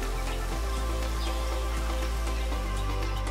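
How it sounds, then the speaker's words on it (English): Rain falls steadily on a jungle tree house, dense pattering drops close by over a low constant hum, continuous and with no voices. "It rains for hours at a time."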